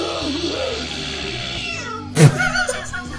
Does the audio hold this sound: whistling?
no